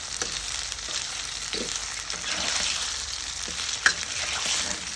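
Cauliflower popcorn pieces fry in hot oil with a dense, even sizzle and crackle, a few small pops and stirring scrapes rising over the steady hiss.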